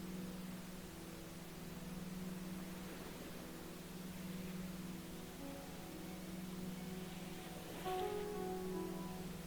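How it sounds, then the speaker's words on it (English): Steady broadband pink noise for calm ambient relaxation, a smooth continuous hiss with low humming tones underneath, holding an even level throughout with a slight swell near the end. "The steady nature of pink noise helps regularize breathing patterns"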